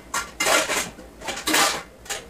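Metal cookware clanks and rattles close by in a home kitchen as a pan is searched for and handled, in four or five short clattering bursts with no voices.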